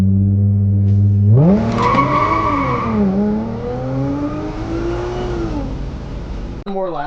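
A dual-pulley Audi S4 launches hard with traction control off, its engine note rising sharply from idle into a loud climbing roar while the tires squeal steadily throughout, close by and alone before a brief cut at the end.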